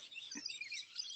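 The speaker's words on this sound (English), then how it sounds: "can you hear the birds outside or not?" Faint birds chirp and twitter in the distance, a thin high-pitched chorus running throughout with a soft low thump early on.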